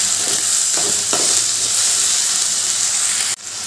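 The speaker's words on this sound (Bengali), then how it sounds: "এবার আলুগুলো একটু ভালো করে ভেজে নেব।" Small pieces of a medium potato sizzle steadily in hot oil in a pan, stirred with a few distinct scrapes, loud and close before the sound drops off abruptly near the end.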